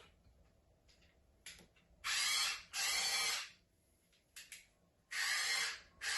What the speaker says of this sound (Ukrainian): А тепер бачу, що це шуруповерт.